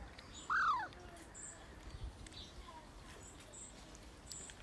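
A single short bird call, a bright descending chirp, rings out once near the start over steady outdoor background noise, then the scene falls back to quiet ambience.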